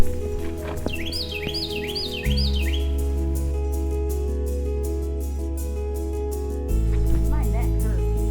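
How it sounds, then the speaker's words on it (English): A bird up in a tree in autumn woodland at Mammoth Cave National Park, Kentucky, calls in a quick series of four or five rising, siren-like whistled notes, moderately near, followed later by fainter chirps, while a loud steady electronic hum runs throughout. "It sounds like a car alarm, but it's a bird up in that tree."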